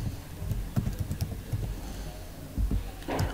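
Fingers tap steadily on a computer keyboard while entering LaTeX markup, a close run of quick irregular keystrokes with brief pauses and a louder cluster of clicks near the end.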